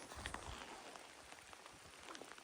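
Rain falls outdoors in Colorado, a faint, steady patter with scattered soft drop hits and no speech.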